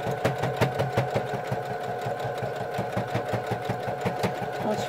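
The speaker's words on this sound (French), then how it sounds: "désolé pour les bruits de machine à coudre" A sewing machine runs steadily while stitching fleece for a hat, its fast needle rhythm clattering and whirring close up with no pauses and no talk.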